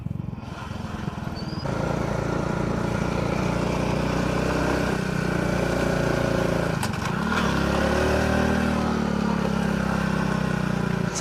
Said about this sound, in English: It's my first time seeing another Suzuki motorcycle like mine.